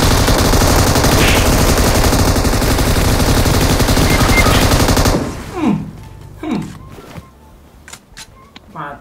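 Rapid, loud, continuous automatic gunfire in a PUBG-style shooter lasts several seconds, then stops, followed by a few scattered thuds and people talking.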